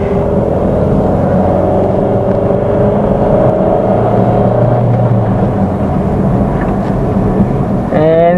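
A Ford Fiesta SXi pulling in third gear on a city road, the engine a steady loud drone with a rising tone, heard from inside the cabin under road and wind noise.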